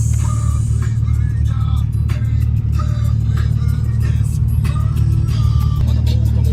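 A racing car engine drones steadily at close range in Tokyo, a loud continuous rumble with no clear rise or fall in pitch.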